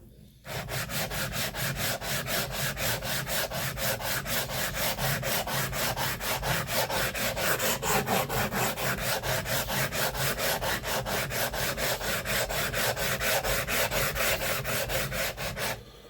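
Steady back-and-forth rubbing on a Naniwa Snow White 8K whetstone, a close, even rasping stroke repeated rapidly and evenly for about fifteen seconds without talk.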